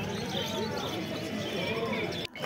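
Birds chatter and call continuously at a busy bird market in Garia where budgerigars and conures are sold, a dense steady mix of chirps under crowd noise, with a brief dip near the end.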